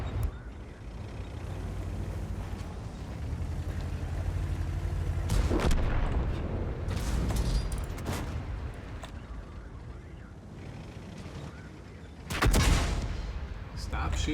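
Tank guns firing HE shells in World of Tanks while a player drives a KV-5: heavy booming shots and rumbling engine noise over a long stretch, with several sharp loud blasts standing out.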